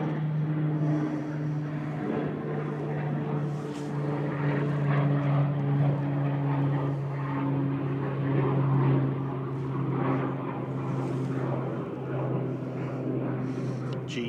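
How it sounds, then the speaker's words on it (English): A Pilatus PC-12 single-engine turboprop at Manchester Airport, a steady droning propeller hum with a sustained low tone, moderately distant and even throughout, no speech. "Tiny little Pilatus PC-12 with its flashy lights."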